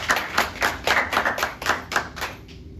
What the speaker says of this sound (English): So without further ado, please clap it up for Shelby Devaney.